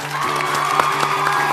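Studio audience applauds on a comedy talk show as an artist is introduced: a short burst of steady, dense clapping with a tonal musical layer underneath.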